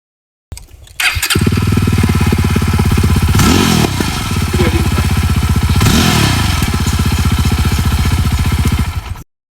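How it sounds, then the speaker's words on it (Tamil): A Yezdi Roadster motorcycle engine cranks and catches about a second in, then idles loudly and steadily close by, with two brief throttle blips partway through before it cuts off. "வண்டி ஸ்டார்ட் பண்றேன்"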